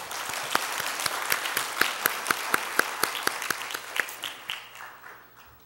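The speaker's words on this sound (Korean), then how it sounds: "우리 하나님의 영광의 박수 한번 올려드리겠습니다." A congregation applauds together, a dense burst of clapping that gradually fades out.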